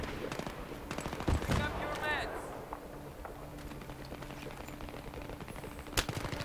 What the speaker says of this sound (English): People are firing at me.